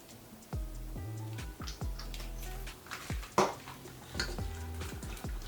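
Pecan caramel sauce, finished with salt and vanilla extract, is stirred in a bowl. A utensil scrapes and clinks against the bowl in repeated strokes, close and fairly quiet, with no talking.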